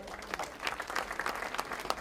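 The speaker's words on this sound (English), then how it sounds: "Let's give him a round of applause." Applause at a Philadelphia government meeting, a dense, steady patter of many hands clapping at moderate distance for about two seconds.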